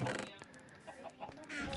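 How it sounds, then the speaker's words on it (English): Chickens on a Minecraft chicken farm give short, soft clucks in a brief, quiet stretch, with someone speaking over them. "So here's my chicken farm. It's a giant egg. Got all different chickens in there."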